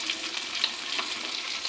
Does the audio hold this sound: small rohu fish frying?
yes